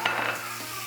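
Green peas frying over high heat in hot oil in a pan for squid ink spaghetti: a brief burst of close, crackling sizzle with a light stirring scrape, easing off quickly.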